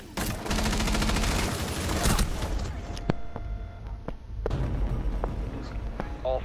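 Video game shootout with dense, rapid gunfire bursts up close, then scattered single shots and shorter volleys, with voices talking over the action.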